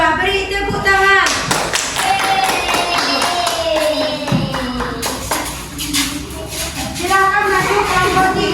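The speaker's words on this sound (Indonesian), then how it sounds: "Beri tepuk tangan." A classroom group of children breaks into loud clapping that swells and carries on for several seconds, mixed with children's chatter and voices.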